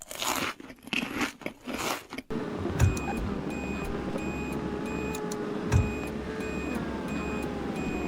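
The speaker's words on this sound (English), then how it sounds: "is that supposed to be beeping at me when I use my turn signal?" A car's turn signal in the Greenville driving video game gives a steady run of evenly spaced electronic beeps over a constant low engine hum, starting a couple of seconds in after some brief crunchy noises.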